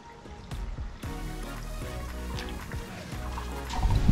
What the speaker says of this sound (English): I'll finger tighten the drain bolt while I fill the cooling system with distilled water.